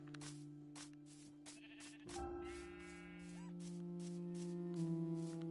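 Sheep bleat in the video game Minecraft, several wavering cries in quick succession over a steady low electronic hum, fairly quiet overall.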